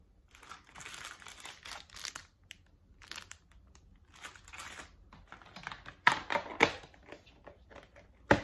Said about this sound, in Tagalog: Cut out stickers.